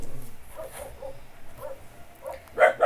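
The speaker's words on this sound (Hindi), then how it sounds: "मेरी वीडियोस के टाइम पे ही भौंकना होता है इनको" Several dogs bark in short, scattered bursts that come through faintly early on, then a louder, nearer bark near the end, with no talking over them.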